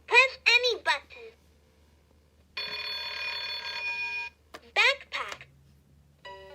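A Dora toy phone rings with a steady electronic trill lasting about two seconds, sitting between bursts of a child-like recorded voice, with a soft low hum running underneath.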